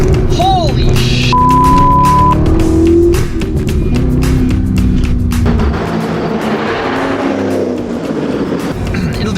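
A Chevrolet C6 Corvette Z06 accelerates hard with a loud, deep engine roar that climbs and then steadies as the car pulls away. A person talks over the engine noise.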